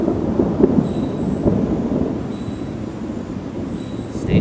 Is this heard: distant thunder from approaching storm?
yes